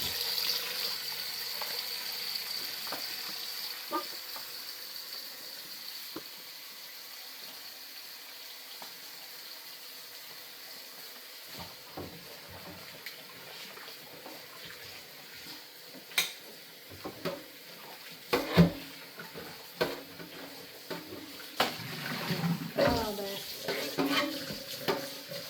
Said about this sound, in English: I'm over here by the sink trying to clean up this bowl real quick.